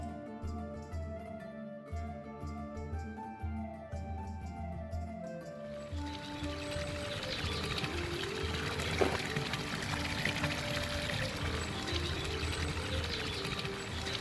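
Cold, clear water runs from a spring fountain beside the Camino Primitivo on leaving Cornellana, a steady splashing pour that takes over after a stretch of music and continues close and constant to the end.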